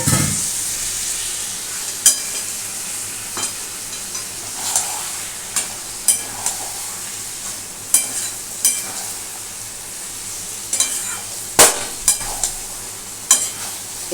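Taro, potato and prawn curry sizzles and fries in a pan as water is added, with a steady hiss and repeated scraping stirs of a spoon against the pan, close and loud.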